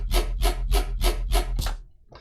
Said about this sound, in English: today I'm bringing you a real gritty wobble that is from my new song coming out